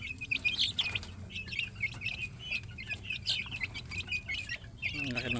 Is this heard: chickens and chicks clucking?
yes